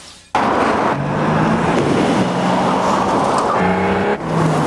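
A 2003 Lincoln LS V8 drives past at speed, its engine note loud and steady for several seconds with a brief dip near the end, heard alone with no voices.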